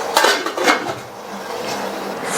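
A metal steamer pot holding banana-leaf-covered kozhukattai dumplings is shut with its lid: a few quick metallic clinks and clatters up close, then quieter kitchen stillness with no talking.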